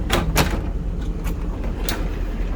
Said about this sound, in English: You go past here, you'll see there is a pocket door